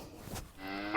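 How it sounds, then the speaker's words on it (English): A cow lets out a low, drawn-out moo that swells toward the end, heard alone and fairly close. "Cow."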